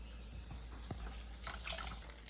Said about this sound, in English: let me just wash this off a little bit.